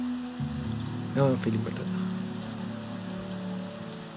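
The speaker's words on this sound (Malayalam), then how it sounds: "ഞാനൊന്ന് ഇറങ്ങട്ടെ, മഴയുണ്ട്, എന്നാലും കുഴപ്പമില്ല" Steady rain falls throughout, an even wash of patter with a short spoken phrase partway through and faint tonal sounds beneath.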